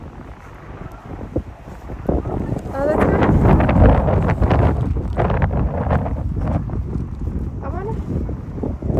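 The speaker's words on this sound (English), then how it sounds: "It's windy now" Strong wind gusts roar across the microphone outdoors during a snowstorm, loudest in the middle and steady throughout, while people talk and call out over it.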